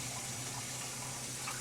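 Tap water runs steadily into a sink while yarn is rinsed after treatment with Rit Color Remover, a continuous close hiss and splash with no talking.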